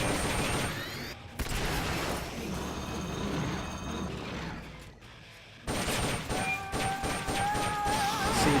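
Gunfire in the video game Metal Gear Solid Peace Walker comes in dense, rapid bursts of shots over game sounds, broken by a short pause before the firing resumes loudly.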